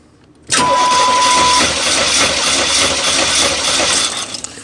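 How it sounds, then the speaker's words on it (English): A 5.7-litre engine being cranked over during a misfire and compression check, an abrupt start into a loud steady mechanical churning that holds for several seconds then eases slightly at the end. "Alright, so we're gonna go ahead and crank it."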